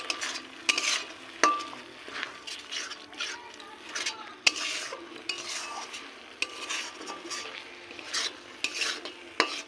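Banana flower filling paste for kachori stirred around a pan, with repeated scraping and knocks of a spoon against metal over a low sizzle.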